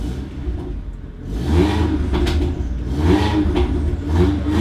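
Audi TTS MK2 8J fitted with an upgraded fuel system pulls hard on the street, its engine note rising loud and close through repeated revving surges with whirring and light clatter.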